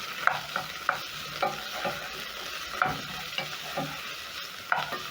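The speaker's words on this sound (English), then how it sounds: "So to my pot, I'm going to add in my onions together with garlic and ginger." Onions, garlic and ginger sizzling in a pot with rendered pork fat, a spoon scraping and stirring in a rough repeating rhythm of light clacks over a soft, steady fry, close and without talk.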